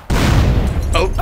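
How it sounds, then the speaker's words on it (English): A single loud, booming explosion bursts in Grand Theft Auto San Andreas and rumbles briefly as it fades. "Oh, explosion."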